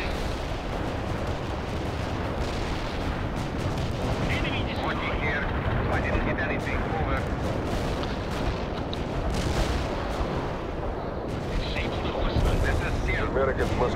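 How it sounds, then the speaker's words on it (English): A dense, continuous battle din of explosions, artillery booms and rattling gunfire in World in Conflict, loud and unbroken throughout. "Just explosions everywhere."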